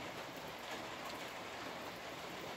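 Rain falls outdoors in a steady, even hiss with no breaks, heard up close and moderately soft.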